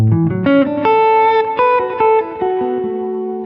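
A jazz electric guitar played through a Strymon Iridium with the tone knob fully off picks a quick run of single notes, then lets a chord ring out and slowly decay with a touch of reverb.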